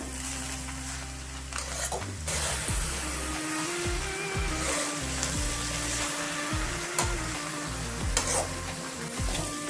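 Cabbage, carrot and pea sabzi sizzles steadily while it is stirred in a frying pan, with a continuous close hiss broken by repeated scraping strokes over a low, steady hum, and no talking.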